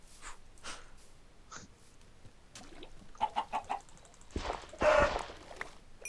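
A chicken in the Minecraft video game clucks in short bursts, a few soft clucks followed by a louder cluster of clucks, with faint game background and no one talking.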